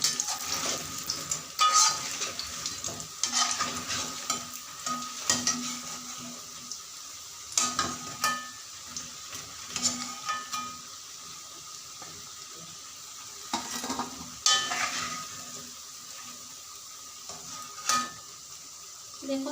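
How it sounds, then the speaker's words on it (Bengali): Mushroom pakoras fry in oil until crisp and coloured, a steady crackling sizzle up close, broken by repeated bursts of stirring and turning, with occasional clinks of utensil against pan. "পাকোড়াগুলো 2 থেকে 3 বার উল্টে পাল্টে ভাজতে ভাজতে সুন্দর একটি কালার চলে এসেছে"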